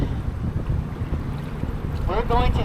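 Wind buffets the microphone with a low, uneven rumble on the Chicago River's Wild Mile, and a voice starts speaking briefly at the end.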